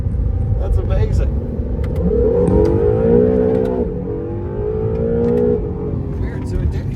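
Acura NSX accelerating hard to redline in first gear, engine note climbing steeply in pitch, then easing off and revving again close by, with interior road rumble underneath.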